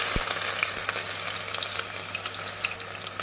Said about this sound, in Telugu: ఈ ఎర్రగడ్డ వేగుతూ ఉంటుంది.